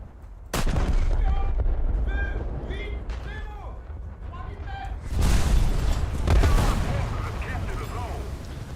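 Heavy naval gunfire in a battleship video game as the French battleship Strasbourg is targeted: a sharp loud blast, then rumbling booms and whistling shells, another big salvo later, with game voices calling out between shots.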